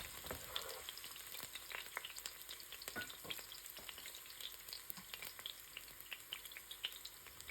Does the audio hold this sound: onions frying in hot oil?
yes